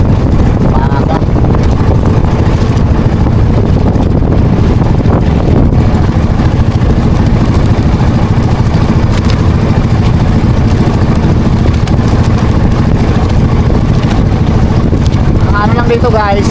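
A boat's engine runs steadily on the water, a loud continuous low drone with wind buffeting the microphone throughout.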